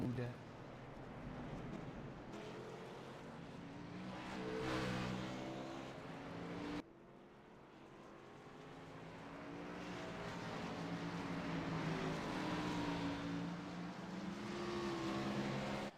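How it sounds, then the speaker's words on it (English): Thirty-plus race cars pull off pit road onto the track at a Tuesday night race, a broad steady roar of many engines rising and swelling for the whole stretch, with an announcer talking over it. "Lots of cars here, 30 plus lined up on the track."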